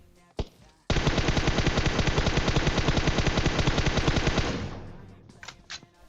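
Sustained automatic gunfire from a battle royale video game, a rapid loud burst of evenly spaced shots lasting several seconds, preceded by a single sharp shot and followed by a few scattered shots after it tails off.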